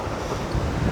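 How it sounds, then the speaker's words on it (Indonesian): Steady wind buffeting a microphone at a parking area in a Japanese village, a low rumbling roar with gusty swells and no voices. "ini berangin juga lur, lagi berangin banget"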